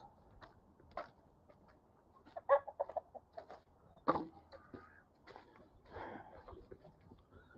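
Chickens clucking inside a backyard chicken coop, with scattered close clucks and short squawks in uneven bursts over a quiet background.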